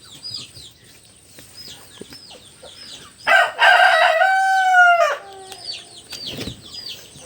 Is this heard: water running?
no